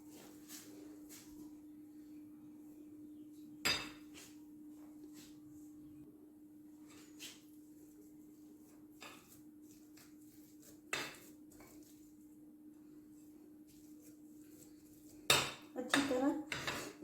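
Boiled potatoes being mashed in a bowl, quiet soft squishing under a low steady hum, punctuated by scattered clacks of a utensil striking the bowl and a louder clatter near the end.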